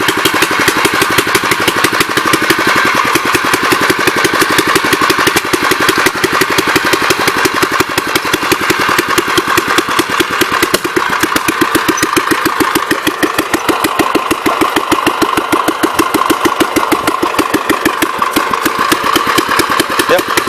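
Old 1954 engine running low on fuel, a loud, close, steady rapid chugging throughout, with slight unevenness in its beat.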